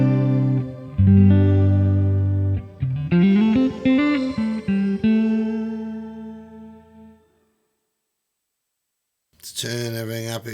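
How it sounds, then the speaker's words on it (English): An electric guitar played through a Hotone Ampero Mini multi-effects unit on a shimmer reverb patch rings with sustained chords and a rising melodic run, a bright pitch-shifted tail fading to silence before a loud strummed chord returns. "And I guess the one you've all been waiting for is the shimmer reverb."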